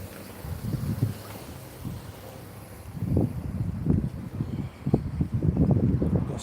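Gusty wind buffets the microphone in low rumbling bursts, rising and falling, with no talking.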